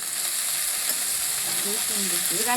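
Paanch phoron spices sizzling in hot oil, a steady hiss of frying that runs close and even throughout, with faint voices murmuring in the background.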